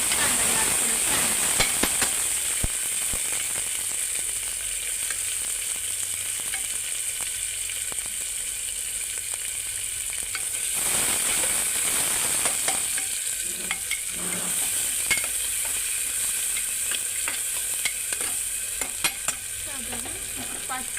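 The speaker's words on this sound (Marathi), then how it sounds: "साधारण 5 मिनटं लागते कांदे भाजायला, टमाटर भाजायला." Onions and tomatoes frying in a pan for khichdi, a steady hissing sizzle with occasional stirring clicks and scrapes, close and continuous for a long stretch with no clear talk.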